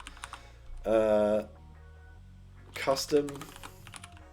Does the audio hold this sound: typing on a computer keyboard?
yes